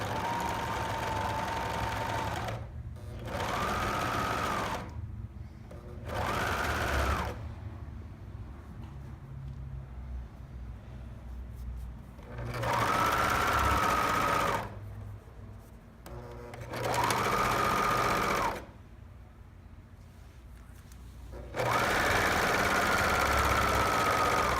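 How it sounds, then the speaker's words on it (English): An overlocker sews fabric panels together for a faux t-shirt wrap dress, running in several close, steady humming bursts of varying length with short quiet gaps between them. "I'm gonna overlock the 2 of these together"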